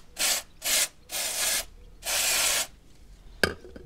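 IPONE motorcycle chain lubricant is sprayed from a can in four short hissing bursts, then a single small click or tap, heard close with no talk.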